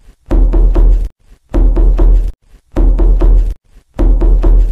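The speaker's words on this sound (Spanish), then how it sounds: "cuando escucho que alguien toca la puerta" Loud knocking on a door in four separate bursts of rapid heavy raps, each lasting under a second and split by short pauses, close and dominant with no voices.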